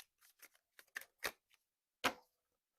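A tarot deck shuffled by hand, giving a string of short, close, papery riffles and snaps, irregularly spaced, ending with one sharper, louder card burst after a brief pause.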